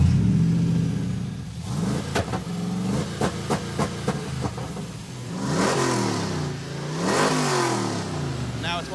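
A Hemi-swapped AMC Gremlin with an RPM-limit fault revs repeatedly, its engine climbing and bouncing off the limiter in a series of sharp stuttering cuts, then surging in long sweeps, loud and close, with voices in between.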